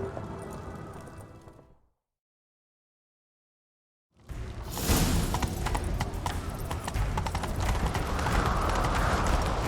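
In The Witcher 3: Wild Hunt, rapid hoofbeats of a galloping horse drum steadily after a short silence, loud and continuous.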